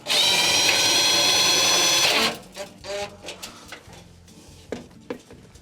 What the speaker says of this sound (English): use your drill and tighten it up.